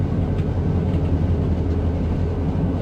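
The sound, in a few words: Amtrak train going west in Run8 train simulator video game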